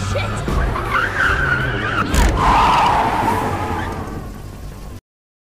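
A car driven dangerously in a chase sends out loud, wavering tyre screeches over a revving engine, rising to a peak midway before cutting off abruptly.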